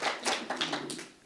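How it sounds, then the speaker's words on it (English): Brief scattered applause from a small audience thanking local business partners, a few hands clapping in loose bursts at moderate distance, fading out after about a second. "Round of applause for them"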